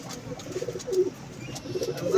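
Pigeons coo in a short, close series of soft, low, throaty calls at a pigeon club.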